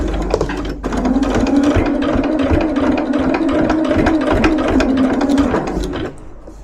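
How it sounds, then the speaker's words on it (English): A sewing machine stitches steadily past a seam on a fabric bowl cozy, a loud, close, rapid mechanical whirring that starts after a short clunk and stops at the end. "So I'm going to get myself past the seam."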